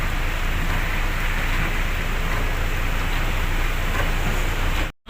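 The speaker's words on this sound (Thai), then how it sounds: "ตอนนี้ฝนตกอยู่ตลอดนะครับเนี่ย ฝนตกตลอดเลย" Steady, heavy rain pours continuously, a dense hiss that fills the whole clip before cutting off abruptly at the end.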